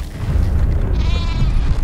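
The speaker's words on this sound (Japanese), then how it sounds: "羊の声におびき寄せられてクリーチャーたちが1箇所に集まった" Sheep bleating in the video game Metal Gear Survive, heard over a constant low rumble of game ambience, with a thin harmonic wavering call near the end.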